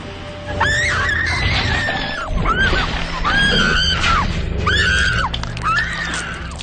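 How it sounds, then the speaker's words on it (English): A woman in a horror film lets out a series of about five loud, shrill screams in quick succession, with rough background noise underneath. "Granted, I had a good scream."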